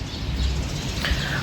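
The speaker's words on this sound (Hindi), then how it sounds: "चिड़ियाँ आवाज़ कर रही हैं" Early-morning birdsong in a quiet coastal town on an island, light chirps and tweets scattered over a low steady background hum, fairly faint and without talk.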